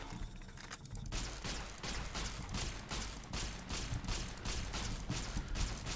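Rapid gunfire from the video game Fallout: New Vegas, a loud, dense burst of repeated shots in a steady rhythm with mechanical clatter, continuing throughout.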